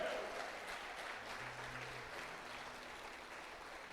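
A church congregation claps together in a sustained burst of applause, fairly faint and diffuse, fading slightly over a few seconds.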